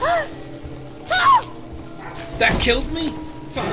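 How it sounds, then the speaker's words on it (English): A neighbour's dog yips and whimpers in short, high bursts, heard behind a voice talking over a sci-fi horror game. "For the record, that sound is not my dog. It is the neighbor dog."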